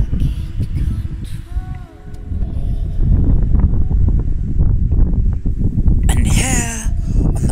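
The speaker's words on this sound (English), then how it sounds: "It's getting really windy." Strong wind gusts buffet the microphone at a fishing lake, producing a steady, loud rumbling roar throughout with a brief lull early on, while people talk over it.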